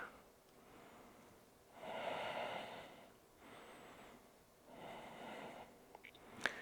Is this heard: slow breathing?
yes